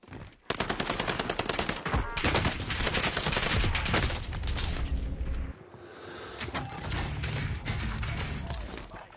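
Heavy sustained video game gunfire with rapid automatic bursts and booming shots, loud and close, a short pause and then more firing.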